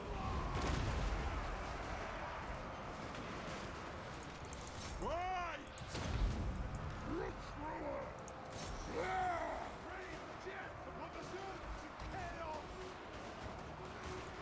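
Dwarf Thunderers in Total War: Warhammer 2 firing their guns in battle: scattered, faint crackling volleys and booms, mixed with distant battle clamor and a talking voice.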